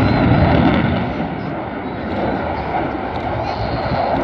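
A powerful aircraft engine roars continuously at the Dunsfold airshow, a loud, broad rushing thrust that holds steady and swells slightly toward the end.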